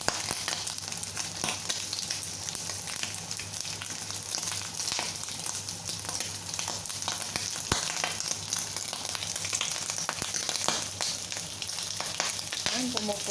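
Vegetables frying in a hot pan, a steady loud sizzle running throughout with scattered sharp pops and crackles, a few brief voice sounds faintly in the background.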